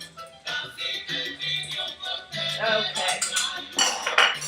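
A whisk beats wet cupcake ingredients lightly in a bowl, giving a run of quick metallic clinks and scrapes in uneven bursts. A voice speaks briefly.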